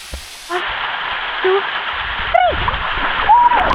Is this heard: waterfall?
yes